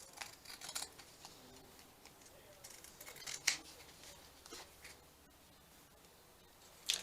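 Scissors snip through paper and fabric tags for a junk journal, faint quiet cuts with a couple of sharper closer snips and soft rustling, no talking.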